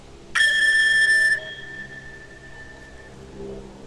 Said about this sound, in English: as we trail off with the sounds of the Tibetan singing bowl